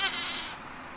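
A sheep on a farm gives a single close bleat with a wavering, quavering tone that fades toward the end, heard alone without talk.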